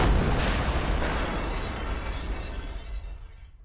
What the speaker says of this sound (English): All of these layers are combined to create a 3-syllable explosion.